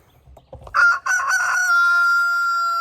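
A rooster crows loudly and close, a long drawn-out call rising after a few short clucks.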